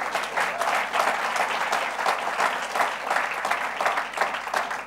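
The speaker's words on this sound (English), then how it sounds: "Let's give him a round of applause." A conference audience claps steadily in a dense, sustained round of applause that fills the room, loud and continuous with no talk over it.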